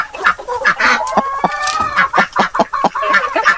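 A flock of free-ranging native chickens clucks nearby in quick, uneven bursts, with one longer rising call in the middle.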